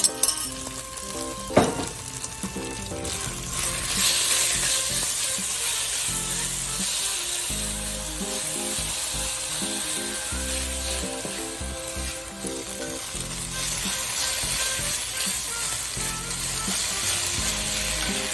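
Marinated flank steak hits a hot oiled pan with black bean and garlic, bursting into loud, steady sizzling frying that carries on without pause, with occasional utensil clinks over the top.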